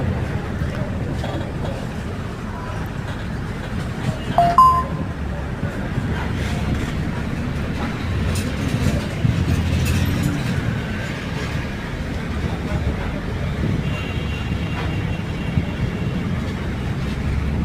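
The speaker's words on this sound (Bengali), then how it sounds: "আরেকটা ট্রেন চলে আসছে" A train passes below an elevated bus route, heard as a steady low mechanical rumble and rolling drone under the hum of the moving bus, with faint clanks throughout.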